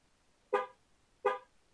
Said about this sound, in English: you're gonna get two honks.